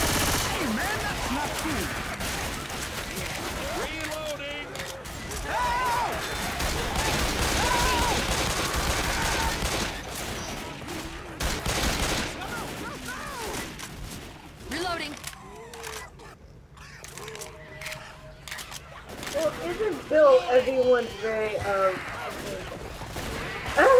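Dense gunfire in the zombie shooter game Left 4 Dead 2, rapid bursts and continuous volleys running through most of the stretch, loud and close, with excited players talking over it.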